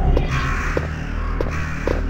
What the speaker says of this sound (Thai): แล้วอีกามันจะบินอยู่แถวนี้ป่ะวะ